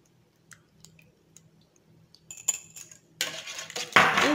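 Oil is worked into lemon poppy seed cake batter with a utensil in a bowl: a few sparse clicks and taps at first, then denser, louder scraping and stirring in the final seconds, with no talking.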